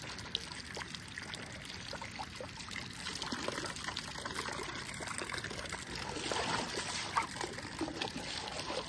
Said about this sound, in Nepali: धारा बन्द गरिदिनु त